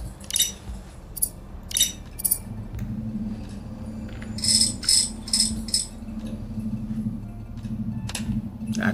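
Connector clicking into place in the video game Aethus: a short run of bright metallic clicks and tinkling ticks, clustered in two bursts over a constant low drone, no voices.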